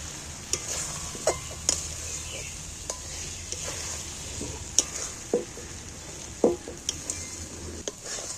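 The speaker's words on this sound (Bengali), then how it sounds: "এটা কিন্তু নাড়তে নাড় দিয়ে ভাজা হয়ে যাবে এই ডিমটা" Egg being stir-fried in a pan, a soft continuous sizzle broken by repeated scraping stirs and light metallic clinks of a utensil against the pan.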